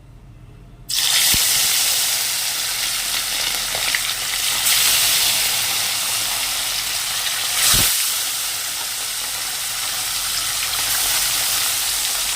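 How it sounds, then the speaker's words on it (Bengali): Fish sizzles in mustard oil in a wok, the hot oil hissing loudly and steadily after a sudden start following a second of near silence, with a brief clunk and a louder spatter midway. "আমার মাছগুলোর এক পাশটা ভাজা হয়ে গেছে, এবার আমি আর পেছন পাশটা ভেজে নিব"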